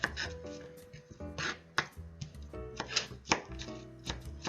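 A knife chops avocado salad ingredients, including onion, on a board in irregular bursts of sharp, close thuds with brief pauses between strokes.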